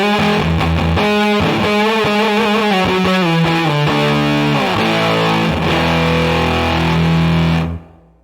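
Electric guitar played through a fuzz pedal with its tone stack off and EQ shaped, loud saturated octave lines then chugging rhythm chords, ringing out before cutting to silence.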